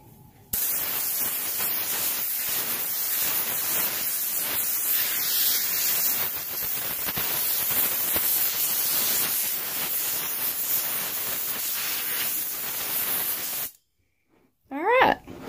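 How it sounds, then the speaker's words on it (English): Wooden sign being sprayed off, a loud continuous hiss of spraying that runs steadily for about thirteen seconds, then cuts off abruptly, followed by a short different noise. "we're going to spray her off now"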